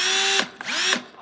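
A Milwaukee cordless drill runs in two short close bursts, each a loud high-pitched motor whine that cuts off abruptly, with a brief winding-up pitch sweep between them.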